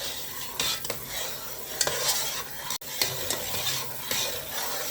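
Sugar syrup for Tirupati laddu stirred steadily in a pan, with a continuous close-up scraping and swishing, a faint sizzle underneath and a few sharper utensil clicks against the vessel.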